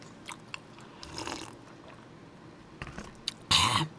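Close-up mouth sounds of someone eating boiled pork bossam: soft, scattered chewing and biting noises, ending in a short, louder crunchy burst, with no speech.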